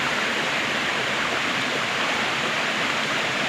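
Water falls over a steep rock face, a loud, dense, continuous roar of rushing water heard close up with no voices.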